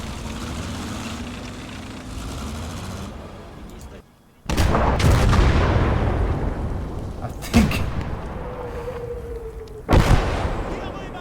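Artillery fire booms in a war video game battle on the Southern Front, a series of loud, heavy blasts after a brief silence, with sharp reports recurring amid rumbling background noise.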